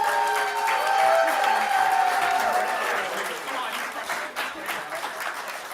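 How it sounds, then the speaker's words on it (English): An audience at a Portland stand-up comedy showcase applauds the comedians, a full sustained round of clapping with some crowd noise that gradually thins toward the end. "Give them a round of applause"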